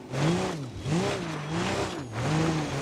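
BMW M5 engine revving hard in BeamNG.drive, loud and close, with rising and falling pitch sweeps as the throttle is blipped repeatedly in roughly three surges.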